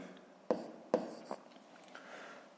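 Pen writing labels on a school geometry drawing, a few quiet close strokes and taps, two sharper marks near the start and a faint scratch afterwards, in a quiet room.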